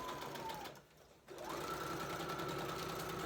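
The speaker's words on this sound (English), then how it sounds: "I'm just kind of sewing a crazy stitch all over the place" A sewing machine running a freeform stitch across a book cover, a fast steady mechanical whir that briefly pauses, then resumes at a slightly lower pitch, close and alone.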